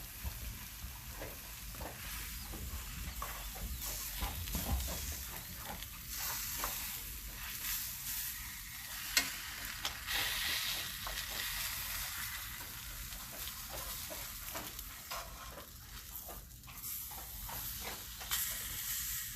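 Chicken parmesan frying in a Lodge cast iron skillet, a continuous soft sizzle and hiss with crackling pops, faint and steady throughout with no voices.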